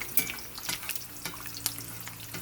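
Eggs for huevos rancheros fry in a pan with a soft, steady crackle and sizzle, broken by light scrapes and pops, close and fairly quiet.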